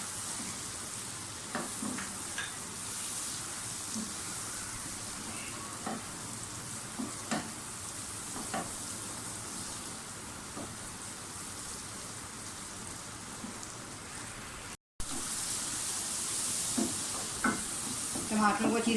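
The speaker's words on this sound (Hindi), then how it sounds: "टमाटरों को अच्छी तरह से भून लें" Tomatoes frying in a pan used like a kadhai, a steady dense sizzle running throughout with occasional clicks and stirring scrapes, fairly close and continuous, no talk.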